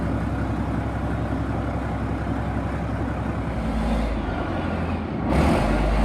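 A CVRT armoured vehicle's engine runs close by with a rough, steady diesel drone, rising slightly as it is revved near the end, with no voices.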